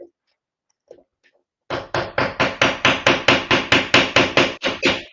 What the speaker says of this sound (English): Kind of just hammering it in there